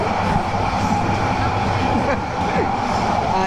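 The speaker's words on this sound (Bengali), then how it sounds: "ট্রেনের ভিতরেই তো আমরা এখন যাচ্ছি" Interior of an express train from Dhaka to Cox's Bazar rolling along, a loud steady rumble and rattle from inside the carriage with faint mixed background voices.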